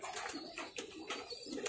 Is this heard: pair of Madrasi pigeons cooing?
yes